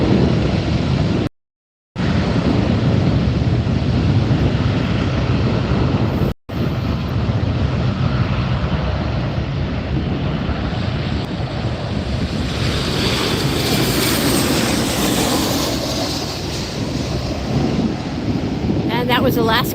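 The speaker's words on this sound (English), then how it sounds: "That was Alaska Air coming in for a landing." An Alaska Air airliner comes in to land at LAX, a broad roaring whoosh that swells and rises toward the end amid outdoor wind noise, with two brief dropouts early on.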